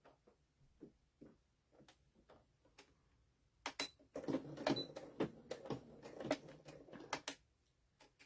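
A sewing machine stitches the fabric wings of a primitive sheep through two layers of fabric and one of batting, starting with sparse light ticks, then running in a denser burst of rapid mechanical clatter before slowing again.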